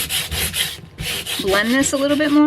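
Sandpaper rubbing across a wooden cutting board to blend a stain, quick scratchy strokes at close range, with a voice speaking over the end of the sanding.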